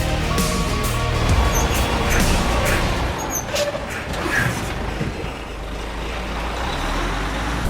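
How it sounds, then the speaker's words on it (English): A 2020 Mercedes-Benz Actros truck rumbles with steady engine drone and road noise, with occasional clanks and hissing bursts throughout, close and fairly loud with no one speaking. "we're now in the Actros truck"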